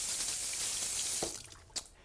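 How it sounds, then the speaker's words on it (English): Tap water runs steadily over hands at a kitchen sink while preparing a tapas seafood roll, a continuous broadband hiss with a couple of brief splashes and drips near the end. "wash our hands."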